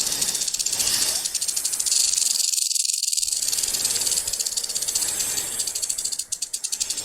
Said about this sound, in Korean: 여러분, 뱀 소리가 들리나요?